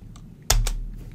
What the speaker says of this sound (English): I can go back, and press backspace